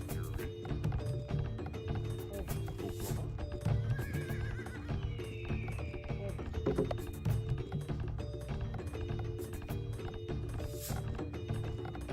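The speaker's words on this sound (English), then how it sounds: "There's my horses." Steady clopping hooves from several horses in the video game Age of Empires, with occasional whinnies rising over the busy, continuous trot and some mechanical clunks.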